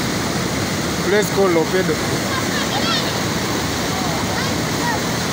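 Floodwater rushes in a dense, continuous roar as it flows over a road in Karamoja, Uganda, with someone speaking over the steady torrent.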